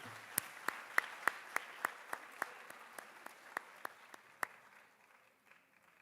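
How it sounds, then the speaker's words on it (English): A small crowd at a high school athletic awards ceremony claps in sparse, evenly spaced single claps that ring out in a reverberant hall, fading out toward the end. "Ladies and gentlemen, join me in a round of applause for our all-state athletes"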